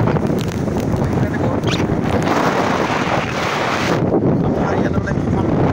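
Cyclone Remol's storm wind in Raha roars and buffets the microphone in a loud, continuous rush, with a voice faintly under the gusts.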